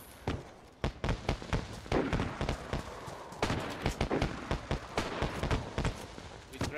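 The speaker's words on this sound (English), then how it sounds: "These are infinite fireworks." Fireworks in DayZ burst in a rapid, irregular barrage of sharp cracks and pops, many close together, loud and continuous throughout.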